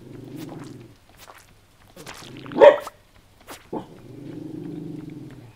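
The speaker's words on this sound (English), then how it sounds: "And now Bella's just proving me wrong about the polite barking." A dog lets out a sharp bark or two, fairly close, between stretches of a low droning hum.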